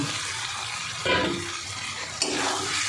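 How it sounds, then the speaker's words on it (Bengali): Fried cauliflower dropped into a sizzling pan of spice paste, a continuous frying hiss with two sudden bursts of louder sizzle as pieces go in, and no talk. "এবার আমি ভেজে রাখা ফুলকপিগুলো দিয়ে দেবো।"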